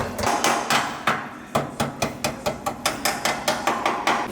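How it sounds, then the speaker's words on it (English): Sharp metallic hammer strikes repeat in a quick, steady rhythm, hammering down freshly cut metal edges on a Subaru WRX to clear track wheels, ringing close up with no talking. "We're gonna hammer all the edges in so it's not so sharp"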